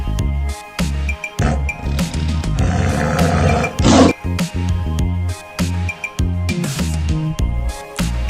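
A tiger roars over a repeating music track, the main roar swelling in the middle and peaking loud for a second or so before fading, with no talking.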